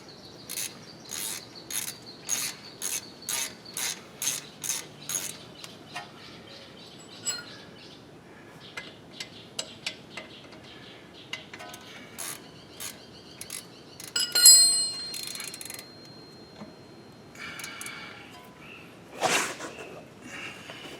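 A hand ratchet tightens a disc brake bolt on a 2015 Jeep Wrangler JK, giving a run of quick, evenly spaced clicks near the start, then sparser clicks and clunks of work on the wheel, close and fairly quiet.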